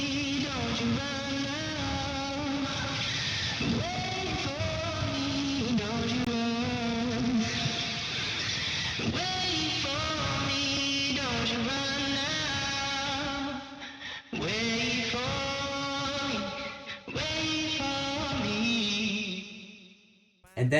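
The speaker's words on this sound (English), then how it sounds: "So I took these vocals right here and added hell of distortion with guitar rig," Vocals run through heavy Guitar Rig distortion: buzzing, gritty sung phrases sustained over about twenty seconds, with a few brief gaps between lines.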